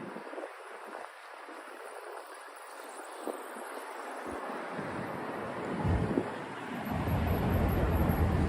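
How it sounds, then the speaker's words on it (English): Cold night wind gusts across a microphone on a Midtown Manhattan street near Lincoln Center, a steady rushing roar that builds and grows louder over several seconds, with faint city noise beneath. "It's windy too."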